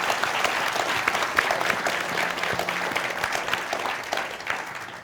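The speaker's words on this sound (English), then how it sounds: "Another round of applause for 2 dudes." Audience applause at a game jam presentation event, steady and sustained clapping from a room full of people throughout, with no voices over it.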